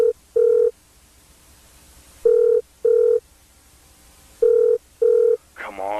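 A telephone rings on a private line in a web show, sounding as three pairs of loud electronic double-ring bursts with pauses between them, ending in a short burst of voice.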